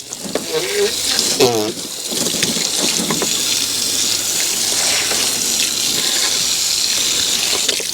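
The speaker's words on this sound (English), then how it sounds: "I'll just keep flushing this until the water runs clean" Water flushes steadily through an APU condenser's fins under low pressure, a continuous loud rushing gush that runs unbroken to the end, with a voice speaking briefly near the start.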